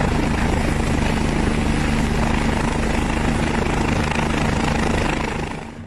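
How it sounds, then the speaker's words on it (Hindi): A French mountain police rescue helicopter over snow-covered peaks gives a loud, steady rotor and engine roar close by, easing off slightly at the very end, with no talk. "ब्रूनो को बचाने में फ्रेंच माउंटेन पुलिस के इस हेलीकॉप्टर के पायलट ने खुद अपनी जान की बाजी लगा दी"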